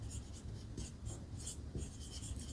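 Pen or chalk writing out a physics formula, giving faint, quick scratchy strokes in short uneven bursts over a low background hum, with no voices.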